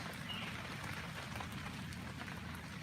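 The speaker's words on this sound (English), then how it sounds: "uh-oh, it's raining" Steady rain falling outdoors, a dense, even hiss of drops pattering on surfaces, continuous and fairly close with no voices.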